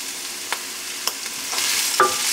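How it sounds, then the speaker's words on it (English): Ginger, garlic and carrot for shrimp lo mein sizzling in a pan, a soft steady hiss with a few light stirring taps and a rising sizzle as more goes in, no voices. "I dumped my ginger and my garlic in"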